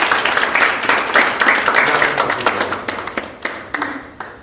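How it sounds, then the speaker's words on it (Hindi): A group in a leadership training session claps hands together, a burst of loud applause that thins into scattered, separate claps toward the end. "ताली बजाएं।"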